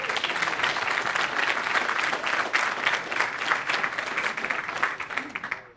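Audience applause in a conference session room, dense continuous clapping from many people that stays steady throughout, then cuts off abruptly at the end.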